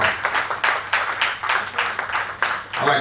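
Audience applause at an investiture ceremony for a new chapter chairman, a steady wash of many hands clapping close and loud, swelling and easing in waves.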